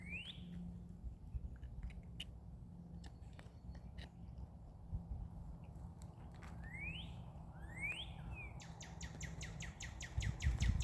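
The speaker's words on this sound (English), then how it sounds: "You can hear the birds." Birds sing outdoors on a spring morning, with several rising chirps and a rapid trill near the end over a low rumbling background, distant and fairly faint.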